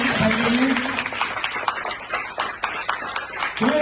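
A crowd at a primary school quiz event claps loudly for the winner. The applause is dense and sustained for several seconds at close range, with a few voices mixed in.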